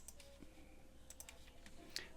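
Several soft, quiet mouse clicks spaced across a short stretch, with one sharper click near the end, made while working in Maya software.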